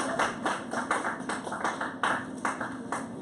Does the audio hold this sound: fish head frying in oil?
no